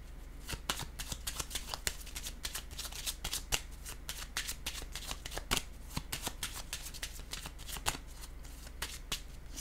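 Tarot cards being shuffled by hand, a rapid run of crisp riffling flicks and slaps, close and steady for several seconds with only brief pauses.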